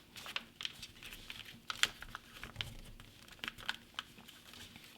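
Paper crinkles and creases as a sheet is folded in half for a fast-flying paper airplane, giving close, soft crackles and a few sharper crisp snaps over about five seconds, with no talking.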